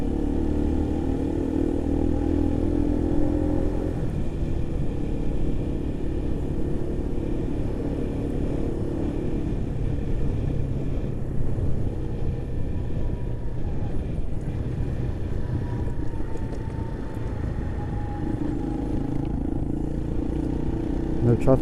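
A motorcycle engine drones steadily while riding, with a pitch change near the middle as gears are shifted down toward first, and someone talks over the engine noise.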